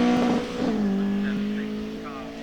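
A Ford Escort with a Pinto engine launches off the line at a speed hillclimb, its engine note rising through the revs and then easing as the car pulls away.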